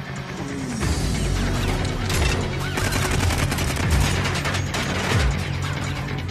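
Heavy 50 caliber machine gun fire in a car-chase action film, a rapid sustained rattle of shots over clanking mechanical noise and engine rumble, loud and dense throughout without talk.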